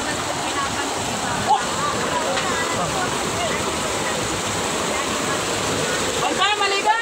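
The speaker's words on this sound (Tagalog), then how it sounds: "Lakas ng agos." Strong flood water rushes past in a loud, continuous roar during a flood, with people talking over the churning current.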